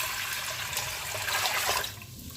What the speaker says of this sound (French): de verser de l'eau dans la cuve.